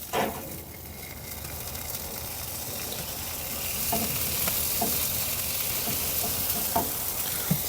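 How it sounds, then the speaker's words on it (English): Steady sizzling and crackling from sauce cooking on a hot Oklahoma Joe's Highland grill, with a few soft clinks and scrapes over the continuous hiss. "Nice sizzle to it."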